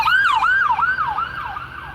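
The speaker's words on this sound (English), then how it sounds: "I wonder if that ambulance is going for Robert" An ambulance siren wails in a street near downtown Flint, a loud, steady up-and-down sweep repeating about every half second, with faint road traffic beneath and no talking.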